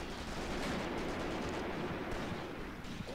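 Constant incoming fire in the WWII tactical game Graviteam: Mius Front, a dense, unbroken roar of distant gunfire and artillery rumble that stays loud throughout.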